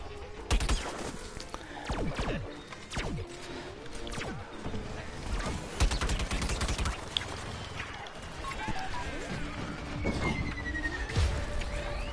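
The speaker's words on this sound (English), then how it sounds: "Who's trying to shoot at me?" Rapid bursts of gunfire crack through a Plants vs Zombies Garden Warfare 2 match, with volleys and single shots spread across the whole stretch over a busy game soundscape, loud and close.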